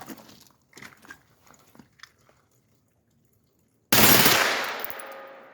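A match-grade trigger rifle bump fired by feathering: after faint handling clicks and a silent pause, one loud, close burst of gunfire erupts and rings out into a long decaying echo.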